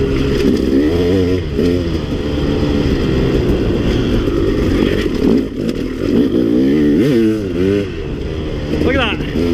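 Dirt bike engine revving loudly on a ride through a desert wash, with rising and falling throttle bursts as the clutch is slipped to lift the front wheel; another engine and wind noise blend in, close and continuous.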